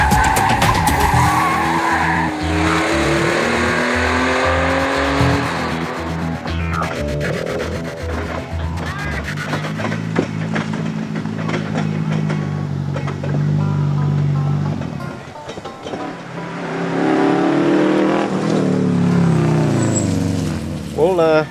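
Rally cars race on the roads of Targa Newfoundland with loud revving engines, gear changes and screeching tyres. Passes and roars overlap for the whole stretch, and a voice talks underneath.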